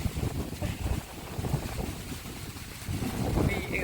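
Wind gusts roughly across the microphone during a boat ride on a river near Honnavar, Udupi, Karnataka, a loud, rumbling buffeting with voices faintly underneath.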